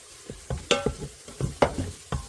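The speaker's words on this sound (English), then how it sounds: "We're going to cook that a little bit to cook some of the flour off." Flour stirred into chicken juices in an Instant Pot, with a spoon scraping and clacking against the pot in about six quick strokes while a gentle sizzle continues underneath.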